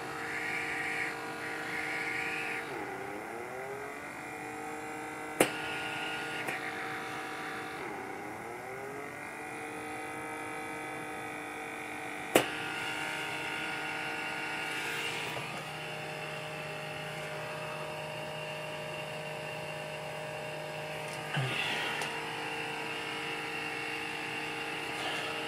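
A TXE blackhead vacuum runs at speed 2 with a steady, close electric motor whine. Its pitch wavers and slides a few times, and there are a couple of sharp clicks.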